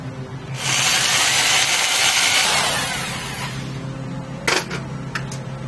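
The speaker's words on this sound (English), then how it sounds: "Now let's go ahead and drill." Power drill boring a hole in a bicycle handlebar while mounting a motorized bike throttle assembly, a loud whirring burst of about two seconds that tapers off, followed by a few sharp clicks.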